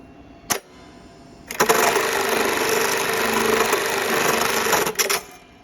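An industrial bartacker sewing machine runs at normal operating speed, a steady loud mechanical whir lasting about three and a half seconds. A sharp click comes before it and another click follows near the end.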